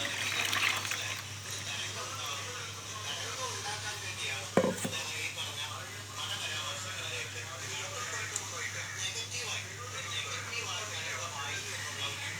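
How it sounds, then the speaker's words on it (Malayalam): A thick paste of ground coconut, garlic and turmeric is poured from a mixer jar into cooked ash gourd for a buttermilk curry. It makes a steady, close, wet pouring sound lasting several seconds, with one brief knock midway. "അത് ഞാൻ ഈ വേവിച്ച കുമ്പളങ്ങയിലേക്ക് ഒഴിക്കുന്നതാണ് കേട്ടോ"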